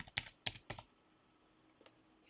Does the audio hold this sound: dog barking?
no